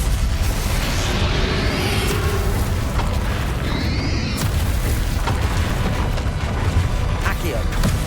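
Expelliarmus spell casting in Hogwarts Legacy: a dense, continuous wash of magical whooshes, booms and rumbles with a rising shimmer midway, loud and sustained throughout, blended with game music and effects.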